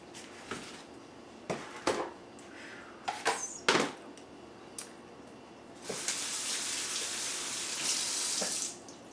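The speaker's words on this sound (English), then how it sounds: "I'm going to go ahead and get these rinsed off as well." Bell peppers rinsed under a running kitchen tap: a few scattered clunks and splashes, then a steady, fairly loud stream of water pouring for several seconds.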